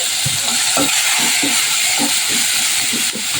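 Garlic and onion sizzling in a pan while a spoon stirs them, a loud continuous hiss broken by repeated scraping strokes in an uneven rhythm, close up.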